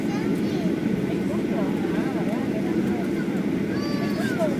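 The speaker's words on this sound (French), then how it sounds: "On va décoller sur la piste là." Inside the cabin of an airplane taking off on the runway, a loud, steady engine roar and rumble fills the whole clip, with faint whining tones and soft voices murmuring underneath.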